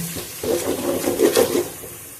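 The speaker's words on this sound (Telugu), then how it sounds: "కొత్తిమీర, పుదీనా వేసుకొని ఇలా బాగా కలుపుకొని కొద్దిగా ఫ్రై అయింది" Coriander and mint leaves being stirred in a hot pan while they fry, a soft sizzle with a few scraping spoon strokes over a couple of seconds.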